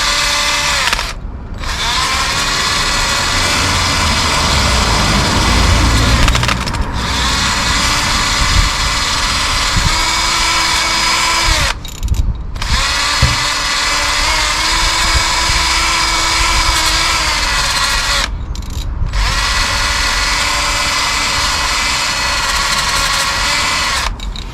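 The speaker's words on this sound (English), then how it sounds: "And just gonna clean with the drill." A power drill whines at high speed while cleaning brake caliper sliding pins on a BMW E90, a loud, close, sustained buzzing roar broken by several short pauses, with no talking over it.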